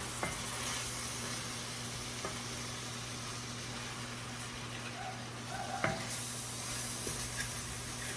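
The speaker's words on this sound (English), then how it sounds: "then we're going to stir that in." Browned ground beef, seasoning and chili beans with their juice sizzle softly in a pan while being stirred, a faint continuous hiss with occasional scrapes and taps of the spoon.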